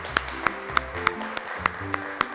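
On a children's TV quiz show, the audience claps for the winning team, a steady, evenly spaced beat of single claps over a musical background.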